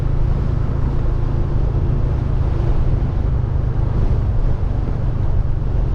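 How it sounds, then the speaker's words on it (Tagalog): Strong wind buffets the microphone continuously in an open roadside stopover spot between Daet, Camarines Norte and Gumaca, Quezon, a loud, dense low rumble that holds steady throughout with no voices. "Napakalakas pa ng hangin."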